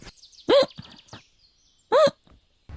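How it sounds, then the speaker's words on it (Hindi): Two sharp, high-pitched hiccups from a female cartoon character, spaced about a second and a half apart, each a short squeaky yelp with faint breathy sounds between them. "तभी उसे बहुत ज्यादा हिचकी आने लगती है"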